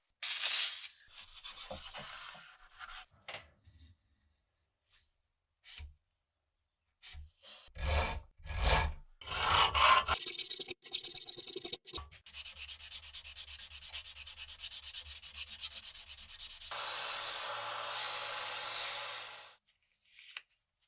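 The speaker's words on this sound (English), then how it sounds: "Next comes grinding and sanding, restoring the blade's original profile and clean lines." Abrasive sanding and grinding on a World War II Nepalese Gurkha kukri blade comes in rough bursts, with long rasping passes and short scrubbing strokes separated by pauses, close and fairly loud.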